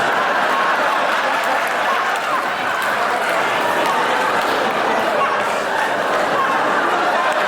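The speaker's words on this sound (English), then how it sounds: "give yourselves a round of applause" A stand-up comedy audience applauding, with loud, steady clapping from a big crowd that holds evenly for several seconds, mixed with some cheering.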